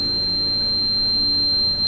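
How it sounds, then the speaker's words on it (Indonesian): An IoT intruder alarm buzzer set off by an opening door gives a loud, steady, high-pitched electronic tone that holds unbroken throughout, alone and close. "buzzer aktif"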